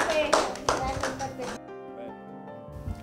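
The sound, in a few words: audience applause for Lucia Mazzetti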